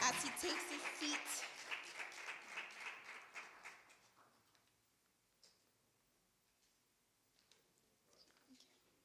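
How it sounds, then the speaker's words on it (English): Applause from a church Sunday school sword drill competition crowd, strongest at the start and fading out over several seconds, leaving a few scattered claps and quiet room sounds. "Can we give a round of applause to Elder Frankie Adam?"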